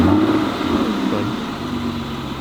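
A car engine running as it is driven out of a garage, a loud mid-pitched rumble that eases slightly from a strong start and holds steady, with no talking.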